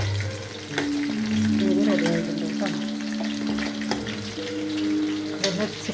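Food fries in hot oil in a home kitchen pan, a continuous crackling sizzle with occasional sharp pops and utensil clinks as it is stirred, with a faint low hum underneath.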